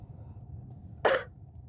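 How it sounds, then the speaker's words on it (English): A single short cough bursts out over a low background murmur, loud and close, lasting a fraction of a second. "Is my cough disrupting you?"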